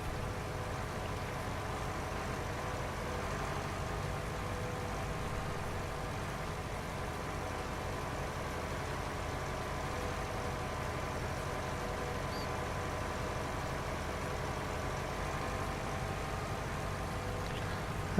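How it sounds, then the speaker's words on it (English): Small tractor engine in Farming Simulator 19 pulling a trailer, a steady low droning rumble that holds constant and unbroken for the whole stretch. "This is the smallest tractor of the ones that we've got. It seems to be pulling this trailer alright"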